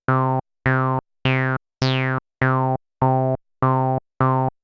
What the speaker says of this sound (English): Listen to how this envelope becomes audible as I turn up the depth.